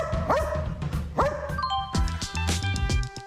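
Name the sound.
dog barking to count numbers on a board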